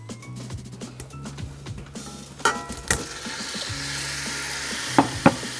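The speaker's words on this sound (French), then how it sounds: "Dès que l'huile est chaude, on vient verser les boulettes." Meatballs dropped into hot oil for berkoukech, a soft stirring start giving way to a loud, steady sizzle and fry, with a few sharp pops and crackles near the end.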